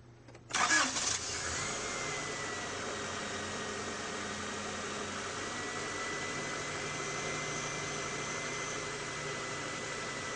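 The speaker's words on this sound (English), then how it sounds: "start your engine." A car engine cranks and fires after a tune-up, with a short burst of starter noise that settles quickly into a steady, fairly quiet idle that holds for the rest of the clip.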